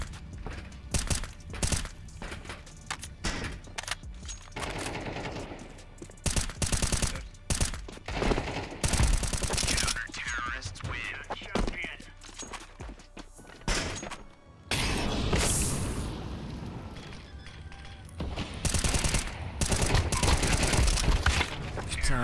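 Rapid gunfire rattles through a Counter-Strike match, with dense bursts of shots, heavy thuds and footsteps, loud and close throughout, while players talk over the action.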